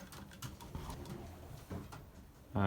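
A Belgian racing pigeon in a loft coos softly in low, repeated murmuring notes, fairly close and faint, with a brief louder bump at the end.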